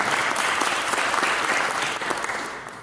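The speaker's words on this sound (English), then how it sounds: "Let's give them a round of applause" Audience applause at a Future Leaders Conference panel, a dense, steady clapping from a crowd that holds strong for a few seconds before tapering slightly at the end.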